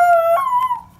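A dog gives a single close, loud, sustained howl that bends downward in pitch and fades at the end, heard alone without any talking.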